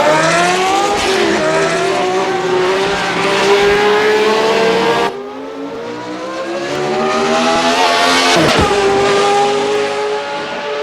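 A high-revving sports car in a racing sim game roars loudly and continuously, engine pitch climbing through gears with brief shifts and tire squeal, one sharp break midway before accelerating again.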